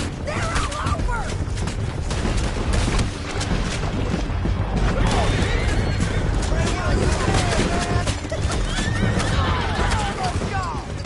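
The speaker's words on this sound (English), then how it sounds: "Men on horses!" Horses gallop and whinny in the Red Dead Redemption video game, with dense hoof clatter, occasional bangs like gunfire, and voices shouting throughout, all loud and continuous.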